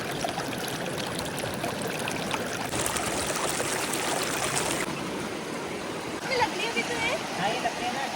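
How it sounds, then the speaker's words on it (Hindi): A stream flows over stones in a steady, close rushing babble that keeps going without a break. "पानी की आवाज़ सुनाती हूँ, सुनो।"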